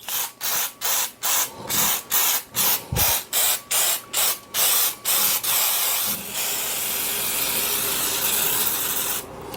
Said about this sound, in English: I am going to spray my tube pan with Baker's Joy